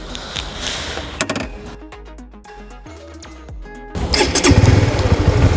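A Honda CB150X motorcycle engine cranks and fires up at a test-ride facility, settling into a steady idle before rising to a louder, rougher running note, close and alone.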